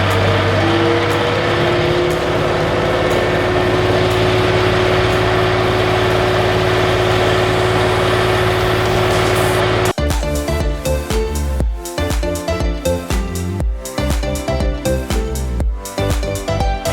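A homestead tractor engine runs steadily and loud for about ten seconds, then shifts to a choppier, pulsing rhythm with gaps in the drone.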